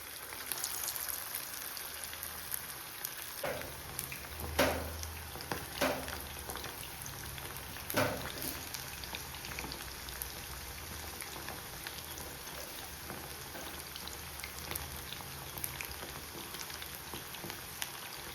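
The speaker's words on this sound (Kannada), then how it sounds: "ಮ್ಯಾರಿನೇಟ್ ಆಗಿರೋ ಕಬಾಬ್ನ ಎಣ್ಣೆಗೆ ಬಿಡೋಣ" Marinated kebab pieces fry in hot oil with a steady, dense sizzle and crackle, with occasional louder pops breaking through the continuous bubbling.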